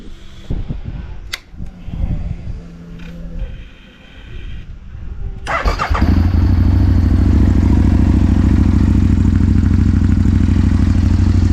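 After a fuel pump repair, an Aprilia motorcycle engine is cranked and fires up: clattering handling noises first, then the engine catches around six seconds in and settles into a loud, steady, close idle that runs to the end.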